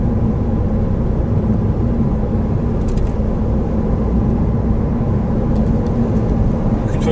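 Toyota Auris hybrid car accelerating gently on the road, heard from inside as a steady low engine and road rumble with a constant hum, no speech.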